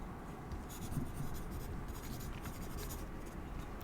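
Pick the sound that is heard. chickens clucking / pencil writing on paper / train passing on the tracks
pencil writing on paper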